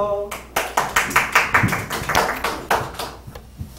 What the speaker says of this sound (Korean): 박수 하시기 바랍니다.